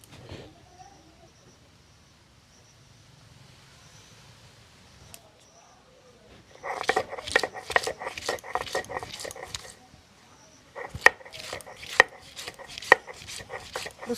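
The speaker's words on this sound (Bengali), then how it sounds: "আদা রসুনটা এবারে বেটে নেব।" Ginger and garlic are pounded into a paste with rapid, sharp repeated strikes, heard in two dense bursts after a quiet stretch of faint background sound.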